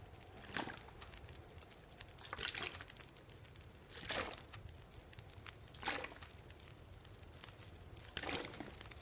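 Water being dropped in The Long Dark survival game, heard as a series of soft splashing, pouring bursts at regular intervals over a steady low background, fairly quiet and with no talking.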